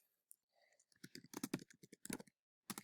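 Typing an answer on a computer keyboard, a quick run of close, crisp key clicks in short bursts with brief pauses, fairly quiet.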